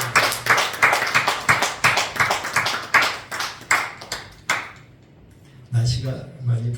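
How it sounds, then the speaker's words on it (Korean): A church congregation claps together in a rhythmic burst of hand claps for several seconds, then falls briefly quiet before a voice speaks again over the room. "우리 사랑의 하나님 앞에 영광의 박수"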